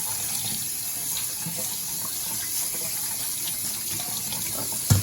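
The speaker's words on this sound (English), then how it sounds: "you can wash them off real quick and then rinse them" Tap water runs steadily over freshly foraged fiddlehead ferns being rinsed in a sink, a continuous close hiss and splash with a small bump near the end and no talking.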